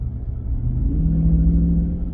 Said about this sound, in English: Maybe we can listen to the exhaust a little bit.